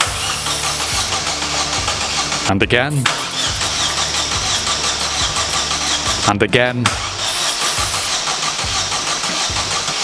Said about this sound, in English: Then we went to start the engine up again.